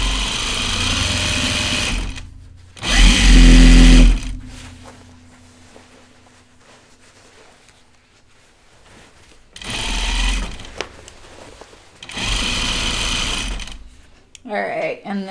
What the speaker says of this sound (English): All right, so I'm gonna sew these straight without easing.